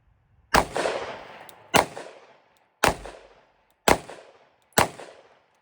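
Five sharp gunshots from a firearm topped with a Cyelee Wolf enclosed red dot, fired one at a time about a second apart outdoors, each loud crack decaying into a short echo.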